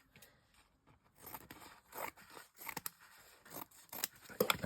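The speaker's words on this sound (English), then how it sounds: "Now I'll cut a piece of this off." Scissors snip through a double-sided adhesive sheet for a handmade Christmas card, giving close, crisp irregular cuts with small crinkling rustles between them, growing louder toward the end.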